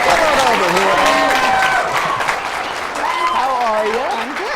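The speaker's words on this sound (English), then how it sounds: "How about a big round of applause and a big welcome, everybody, for Samantha Harr" A game show studio audience claps and cheers steadily to welcome a contestant, a dense, loud wash of applause that holds throughout while a host's voice carries over it with sliding, expressive speech.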